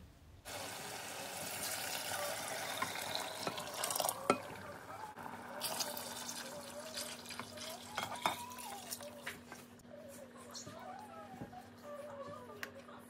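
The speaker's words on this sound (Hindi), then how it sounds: "उस पॉइंट पे आप ना अपना जो बीफ आपने गला के रखा हुआ है ना वो ऐड कर दीजिए। और फिर थोड़ी सी 2-4 मिनट आप फिर से भून लीजिए" Beef frying with spices in a pot for beef pulao, giving a steady sizzle with scraping stirs and utensil clinks, heard at close range and moderately loud, with a low steady hum running beneath it.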